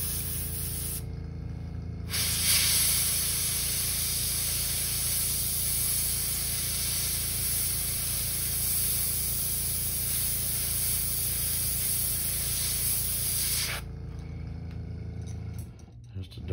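Airbrush spray paint hisses steadily as a custom crankbait fishing lure is painted, one long close spray lasting about twelve seconds with quieter machine hum before and after.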